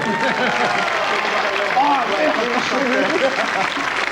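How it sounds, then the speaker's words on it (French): Studio audience of a French TV variety show applauds loudly for a guest, a continuous dense roar of clapping filling the whole moment while someone talks over it. "Je vous demande d'applaudir très fort"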